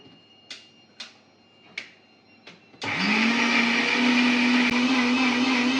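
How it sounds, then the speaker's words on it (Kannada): A few sharp clicks and taps, then a mixer grinder starts up with a loud, steady high-pitched whirring grind that runs to the end. "ಇದಕ್ಕೊಂಚೂರು ನೀರು ಹಾಕೊಂಡು ರುಬ್ಕೊತೀನಿ"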